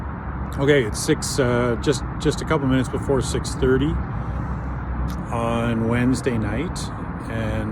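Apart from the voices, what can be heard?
road traffic passing near a bridge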